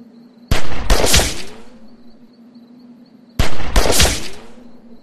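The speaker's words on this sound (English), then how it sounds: "Remember, don't stop shooting. Fire!" Two loud bursts of gunfire from The Walking Dead: Season One game, each a sharp volley that rings out and decays, separated by a quiet low hum.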